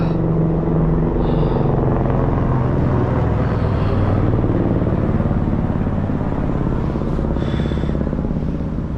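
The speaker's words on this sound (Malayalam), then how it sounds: "സ്കൂട്ടർ പോകുന്നുണ്ട് കേട്ടോ" A scooter engine on a snowy, rocky trail on the Annapurna Base Camp trek rumbles loud and steady throughout, close by, with no talk.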